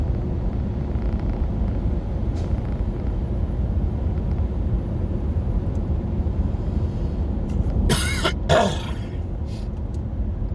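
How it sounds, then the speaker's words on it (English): Two quick, sharp coughs break through a constant low engine rumble near the end, close to the microphone. "Sorry about the coughing."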